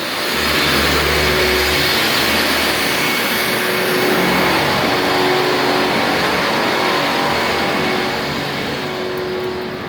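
An angle grinder cuts down a crack in a concrete house foundation in Arizona, a loud, steady, harsh roar with a faint whine running nearly unbroken for the whole stretch, with no voices over it.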